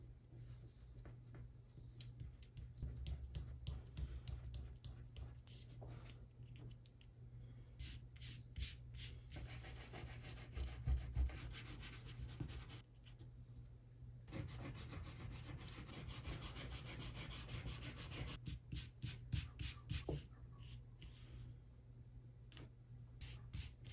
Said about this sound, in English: I'm gonna go ahead and start peeling back the masking fluid